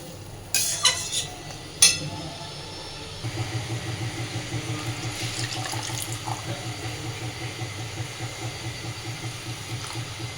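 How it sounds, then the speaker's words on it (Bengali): Water pours into a pot of thick spiced lentil dal after a couple of clanks from a pot, a steady close gurgling stream that continues to the end. "এবার দিয়ে দিচ্ছি জল"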